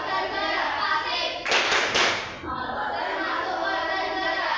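Children in a classroom perform a rhythmic clapping chant about the movement system, their voices chanting over the claps, with one louder burst of clapping and noise in the middle.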